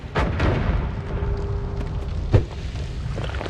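A bomb detonates in the pixel-physics game Noita with a single sharp, booming blast about two-thirds of the way through, set against a steady bed of crackling, rumbling game ambience.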